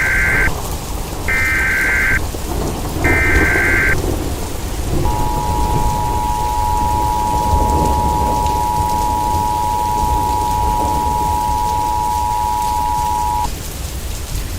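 Heavy rain and rolling thunder of a severe thunderstorm over Los Angeles County, California, fill the whole stretch as a loud steady wash, with three short alert buzzer bursts at the start followed by a long sustained warning tone over the storm.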